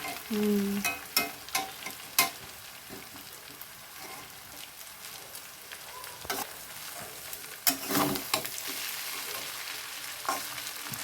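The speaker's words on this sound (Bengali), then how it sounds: "তো এইভাবে আস্তে আস্তে ভালো করে মিশিয়ে নিতে হবে" Vegetable chow mein with potato and egg being stirred and fried in a pan, a soft continuous sizzle broken by repeated scraping and clanking strokes of the spatula, heard up close.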